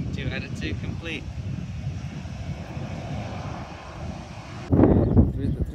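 A JetBlue airliner landing at Bermuda's airport, its jet engines roaring steadily and fairly loud at a distance, with a louder surge near the end; people talk over the engine noise.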